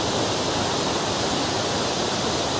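Joren waterfall in Izu, Japan, roars as a steady, dense wash of falling water close by, loud and unbroken throughout, with no voices heard.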